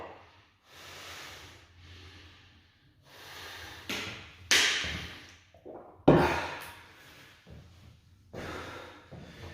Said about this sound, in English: so you don't just have to listen to me huffing and puffing all the way through